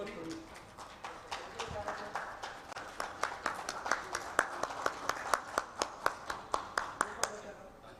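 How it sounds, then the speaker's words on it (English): Audience at a corporate program launch event claps in an irregular, then quickening rhythmic burst, fairly close and moderately loud, with a voice speaking over it. "You hear the claps, right?"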